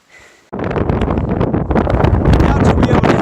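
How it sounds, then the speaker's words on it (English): Strong wind buffets the microphone on an Appalachian Trail hike, a loud continuous roar that starts abruptly after a quiet moment and holds steady throughout. "Doubt you'll be able to hear this over the wind"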